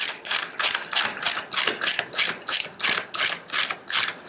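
A ratchet loosens a nut on a stroller harness with about a dozen evenly spaced clicking strokes, crisp and close, in a steady back-and-forth rhythm with nothing else heard.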